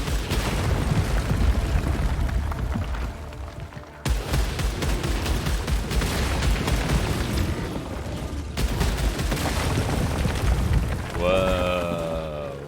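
Statues shatter under fire in Returnal, a continuous barrage of crashing, crumbling impacts with brief gaps, ending in a rising electronic warble.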